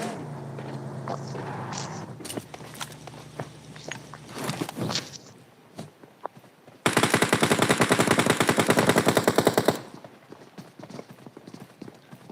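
Sustained machine gun fire in a video game, a loud rapid rattle lasting about three seconds after softer footsteps and scattered shots, with a brief voice early on.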